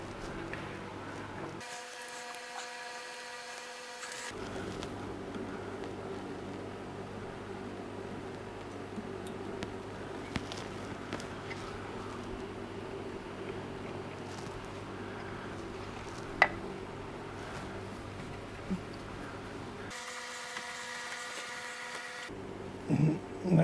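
A bottoming tap cuts threads to the bottom of a blind hole, a steady mechanical drone with a constant hum running throughout, sharper bursts of noise starting and stopping near the beginning and end, and no talk.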